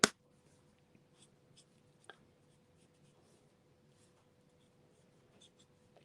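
Pen strokes coloring birds on a paper card, a quiet, sporadic scratching with a sharper tap near the start and a few soft marks scattered through a near-silent room.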